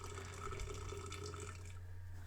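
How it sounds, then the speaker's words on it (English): Boiling water is poured into a tall glass hot dog jar over a Matchbox Ford Cortina die-cast casting. The pour is a faint, steady trickle and splash over a low hum, trailing off near the end. "fill up, just covering the casting with some boiling water"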